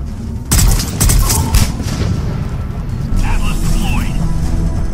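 Firefight in Mass Effect 3 on Tuchanka: a loud cluster of gunshots and booming blasts early on, followed by continuing rumbling combat noise while people talk over it.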